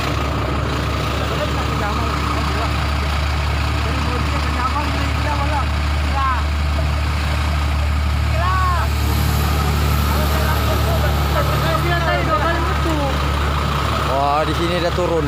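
A lorry's engine runs steadily at the scene of a road accident, with a low continuous rumble underneath while several people talk nearby throughout.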